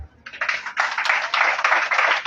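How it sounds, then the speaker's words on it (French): Church congregation applauding together during a sermon, a steady burst of close, dense hand clapping that starts after a brief quiet moment and continues without a break to the end. "Applaudissez-vous."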